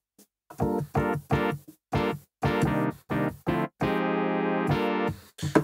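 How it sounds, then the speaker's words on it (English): Synthesizer chord stabs transposed down to lower notes form a choppy house-style rhythmic pattern, several short hits followed by one long held chord, clear and upfront with no talking. "if I transpose this on the lower notes,"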